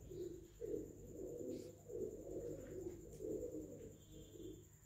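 Pigeons kept in a loft at Hasanpura village near Ludhiana coo in a soft, steady, repeating rhythm of low throaty phrases, close by and calm, with faint chirps in the background.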